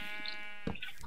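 Sheep bleating in Minecraft, a single clear wavering bleat followed by a shorter second call, close and fairly loud on a farm.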